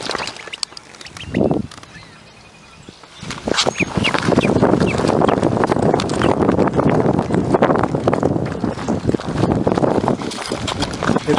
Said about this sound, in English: That duck does not give up.